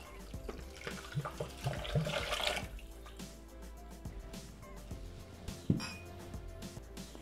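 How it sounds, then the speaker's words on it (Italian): Water poured into a Thermomix bowl during risotto prep, a splashing gush for a couple of seconds, then light drips and clinks of the bowl, close up. "Adesso aggiungiamo l'acqua."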